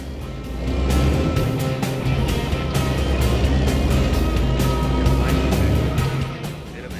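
Heavy truck engine drones steadily as it climbs a hill in American Truck Simulator, a continuous loud low rumble with faint rattling, holding for most of the stretch and easing off near the end.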